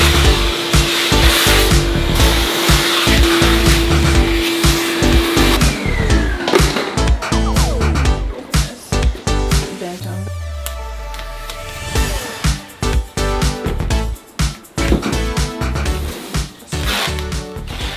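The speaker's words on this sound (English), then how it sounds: "I'm gonna do a really quick vacuum on this because I've got a little bit of sawdust" A shop vacuum cleans sawdust off a wooden stair railing during a DIY staircase renovation, sounding as a loud, continuous broadband whoosh with rubbing and scraping bursts as the nozzle moves along the wood.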